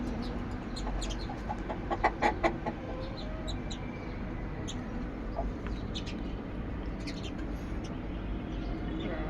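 Kadaknath chickens cluck in short bursts close by, a few sharper calls standing out over a low steady background hum, with a voice murmuring faintly.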